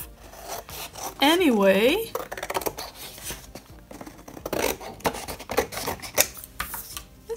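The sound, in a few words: scissors cutting paper borders off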